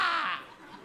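A French stage performer imitates a crow with a single short, harsh, nasal caw that fades quickly, alone and close.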